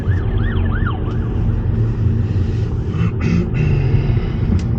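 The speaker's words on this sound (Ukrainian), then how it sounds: "вона швидка летить" An ambulance siren wails, sweeping up and down a few times as it passes, over steady road and engine noise heard from inside a moving vehicle in Rovaniemi, fading into traffic rumble.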